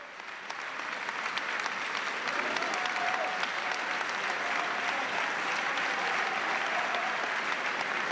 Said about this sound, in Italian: Esce Dondoni, entra Piccini, lungo applauso, bravo!